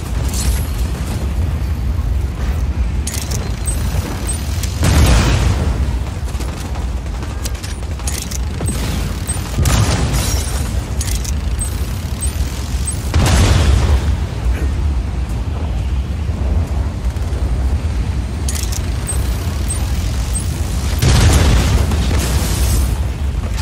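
Explosions boom as a wind cannon is destroyed in the Just Cause 4 video game, several heavy low blasts spaced a few seconds apart over a constant rumbling roar.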